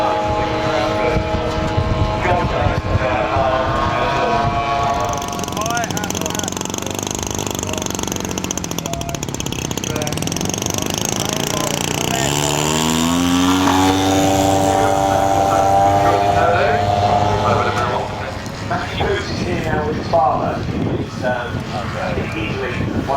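A radio-controlled model F-104 jet flies at an outdoor air show, its steady engine whine shifting in pitch as it passes, with a loud announcer talking over it nearly throughout.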